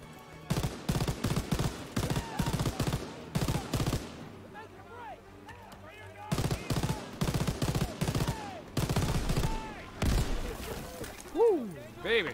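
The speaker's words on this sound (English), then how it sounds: "Bring some heavy machine gun." Heavy machine gun fire in a WWII video game, with long rapid bursts of loud automatic gunfire broken by brief pauses, and a voice talking over parts of it.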